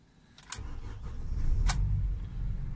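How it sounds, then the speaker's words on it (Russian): A 2019 UAZ Patriot gets its first start of the day: a couple of sharp clicks, then a low engine rumble that builds and settles into a steady idle, fairly close. "первый запуск автомобиля"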